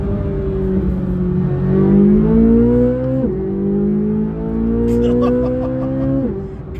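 A Corvette C8 E-Ray's exhaust bellows through two long revving rips that climb steadily in pitch and then snap back down, loud and close.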